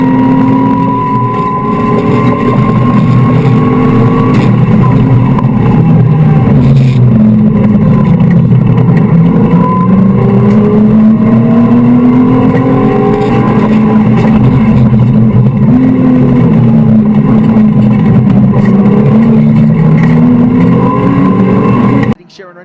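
Several Mitsubishi Lancer Evo race cars compete in a close-running group, their engines droning and shifting pitch continuously at high volume throughout, with a commentator talking over the steady roar.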